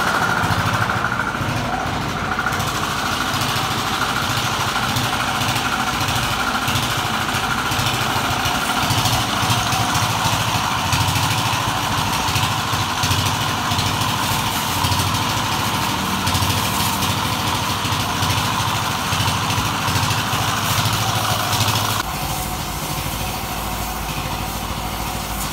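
A motorcycle engine idles steadily during servicing on a hot day, a continuous loud rumble and buzz that holds the same level throughout, with no speech.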